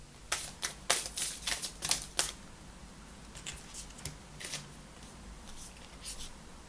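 Tarot cards being shuffled and drawn, a quick run of crisp riffling flicks followed by sparser, quieter card snaps and slides, close and clear.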